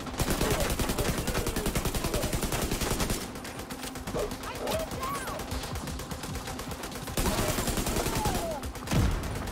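Machine gun fire in the video game The Division 2, with long dense bursts of rapid automatic shots, loud and close, broken by a short lull before firing resumes.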